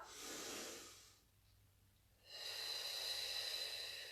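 Breath during a Pilates exercise on a foam roller: a long, close, airy exhale, then a quiet pause, then another strong steady breath that hisses on to the end.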